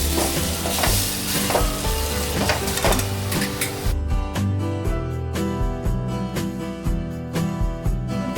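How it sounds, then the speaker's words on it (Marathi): Boiled potato mixture sautéed and stirred in a pan for bread pakoda filling, a loud dense sizzle at first that thins out, with rapid repeated scraping strokes of a spoon, close and without talk. "आता आपण हे चांगलं परतून घेऊया उकडून घेतलेला बटाटा घालूया हे सगळं मिक्स करून घेऊया"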